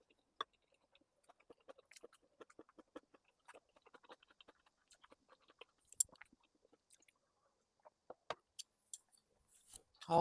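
Close, quiet chewing and biting of food dipped in ssamjang, soft wet crunches and smacks in an irregular rhythm with brief pauses, ending in a louder rustle.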